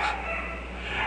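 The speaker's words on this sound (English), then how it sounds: "And all my dogs barking today." A brief yelp from a dog nearby, a short sharp bark over a low hum.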